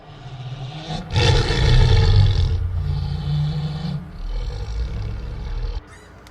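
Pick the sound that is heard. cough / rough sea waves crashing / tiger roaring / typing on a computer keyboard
tiger roaring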